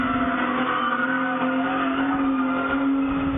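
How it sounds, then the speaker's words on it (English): A car skids repeatedly around the Blackwood roundabout, its tyres squealing in a loud, sustained howl over steady engine roar, heard close and continuous with no talk. "The driver begins doing skids, going around not once, not twice, but more than 30 times."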